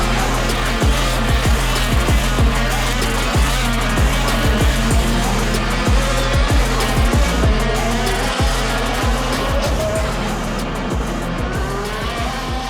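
Race cars roar loudly at the start of a race, a dense, continuous engine din with repeated sharp passes and tire squeals cutting through, steady and close throughout.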